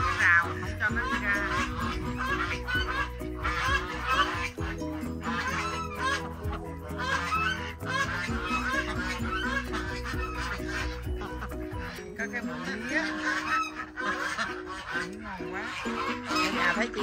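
Geese and ducks honk and call in a home garden, a near, busy chorus of repeated honks and quacks that continues throughout, with people talking over it.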